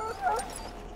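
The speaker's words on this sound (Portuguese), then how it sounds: "Now I can treat the dog properly, poor fella." A Mabari war dog in the video game Dragon Age Origins whimpers, a short, high, plaintive whine heard close and clear, alone without talk.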